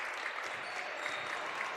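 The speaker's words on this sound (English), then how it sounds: "As the Mooney sideline here starts clapping it up for playing great defense." Spectators on the sideline at a boys high school basketball game clap steadily in a continuous, moderately distant patter.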